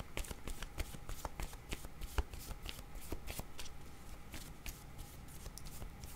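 Tarot cards being shuffled by hand, a steady run of soft riffling slaps and flicks, close and fairly quiet, with no talking.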